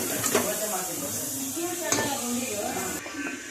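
Chilli powder and pepper powder stirred and fried together in a pan, a steady close sizzle with a few scraping strokes of the spoon, and a voice talking over it.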